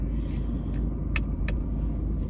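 Steady low road rumble of cars idling and creeping in a traffic jam, heard from inside a vehicle, with a couple of brief faint clicks over the continuous engine drone.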